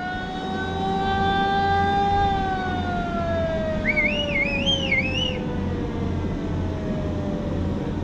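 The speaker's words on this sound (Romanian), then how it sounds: "Dă-i claxon!" A vehicle horn sounds at a carp fishing spot on the Danube, a long, loud sustained tone whose pitch slowly sags, with brief warbling whistle-like notes rising over it midway.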